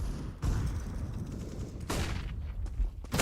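Rapid gunfire from a Counter-Strike esports match between Fnatic and Team Spirit, loud dense bursts of shots stacked together with sharp bangs near 0.4 and 1.9 seconds, little talk.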